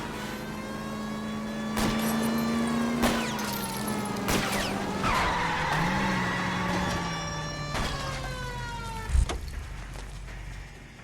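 A car chase in the video game L.A. Noire: a droning engine runs under a wailing police siren, with screeching skids and a sharp ramming thud near the end.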